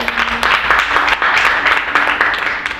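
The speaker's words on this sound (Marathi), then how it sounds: "आपण टाळ्या वाजवून कौतुक करूया." A short burst of audience clapping follows Vaishali's song performance, a dense, close, fairly loud patter that keeps going for a few seconds.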